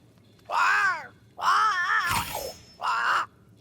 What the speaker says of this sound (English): But it's a bird. It's Ceridian, by way of the invisible, speaking through the crow